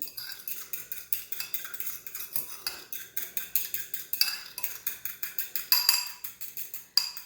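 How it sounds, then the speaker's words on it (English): A fork whisks Italian salad dressing in a bowl, giving rapid, steady metallic scraping and clinking strokes that run without a break for several seconds. The strokes are close and moderately loud, with a few sharper clinks standing out. "we're just going to whisk that up here with our fork"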